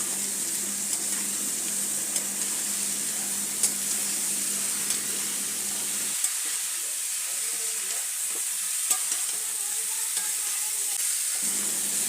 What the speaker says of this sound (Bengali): এইবারে এঁচোড়টা দিয়ে মশলার সঙ্গে খুব ভালো করে কষিয়ে নিতে হবে।